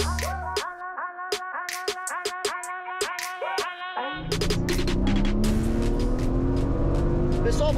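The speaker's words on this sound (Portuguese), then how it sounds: "vou começar em alta velocidade esse vídeo com o motor aqui do RS5 Competition Plus urrando no ouvido de vocês" Audi RS5 Competition Plus with a 2.9 V6 biturbo engine roaring loudly, first in short sharp revving bursts, then a sustained full-throttle pull under hard acceleration, close and dominant.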